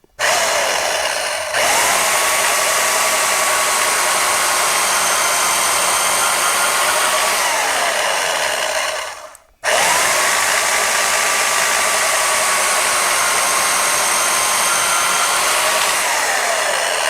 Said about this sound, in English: so I can use it just as a bandsaw